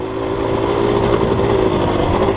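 A motorcycle fitted with a Recluse automatic clutch drones at a steady, loud, close mid-pitched engine note, even and unbroken throughout.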